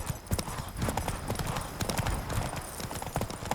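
Close, steady clip-clop of Geralt's horse Roach trotting in The Witcher 3, an even run of hoofbeats with a brief whinny-like sound and faint voices behind.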